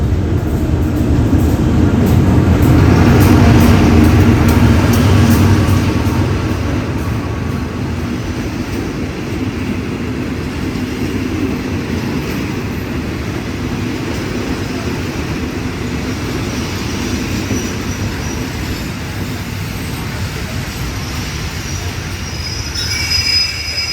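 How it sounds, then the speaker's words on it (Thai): An SRT freight train in Thailand rolls past with loud, continuous metallic wheel squeal over the heavy rumble of wagons, louder at first and then settling into a sustained clatter and screech. "ซึ่งขบวนนี้ก็เป็นขบวนรถที่รับส่ง เฉพาะสินค้าเท่านั้นนะครับ"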